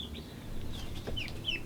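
Backyard chickens clucking nearby, with several short, rising clucks and squawks over a steady low farm-like hum.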